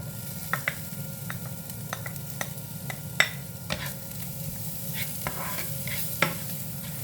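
Onions sauté in a pan for pork giniling with upo, giving a steady moderate sizzle broken by sharp utensil clicks and scrapes of stirring every second or so.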